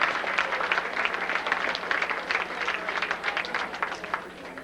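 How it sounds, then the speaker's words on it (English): Steady applause from a school assembly audience at a high school awards ceremony, many hands clapping at moderate loudness, a bit distant and roomy, continuing without letup. "A round of applause for all of these people"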